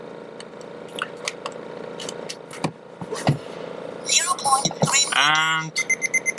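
Rapid electronic beeps from a budget eight-sensor parking sensor system installed on a Mercedes Sprinter van conversion, arriving at the end after a burst of scattered clicks, rustling and a synthetic tone.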